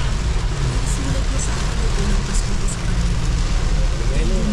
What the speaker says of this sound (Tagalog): Grabe po yung ulan, no?